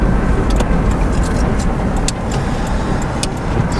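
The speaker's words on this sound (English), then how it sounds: "Bus here." A bus drives past at close range, its engine a loud, steady broadband rumble with traffic noise that holds for several seconds and dips slightly midway, with no talking.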